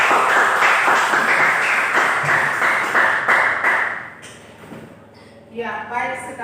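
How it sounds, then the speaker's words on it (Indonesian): A classroom of students claps for a presenting group, a dense, fairly loud patter of hands that fades out after about four seconds, followed by a teacher's voice. "berikan aplaus untuk kelompok 3"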